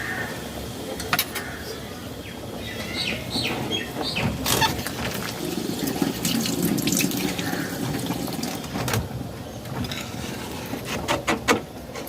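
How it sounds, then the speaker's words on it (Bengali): Hot water poured into a pan of spiced chicken curry after the masala has cooked down on high flame, a steady splashing gush rising over several seconds, mixed with short clattering knocks and sizzle. "মশলা থেকে তেল ছেড়ে দিয়েছে গরম জল দিয়ে দেবো"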